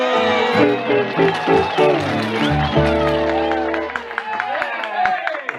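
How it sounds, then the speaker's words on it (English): A live audience claps and cheers for Archie Campbell at a 1965 show, a brief burst of applause under music and voices that quickly fades into scattered claps. "give a nice round of applause to the mayor of Bulls Gap, Archie Campbell"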